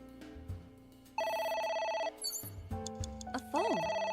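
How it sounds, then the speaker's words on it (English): Telephone ringing in the video game AI: The Somnium Files, a bright electronic ring that cuts in partway and repeats amid game sounds and music, with no talk over it. "A phone. Should I pick it up?"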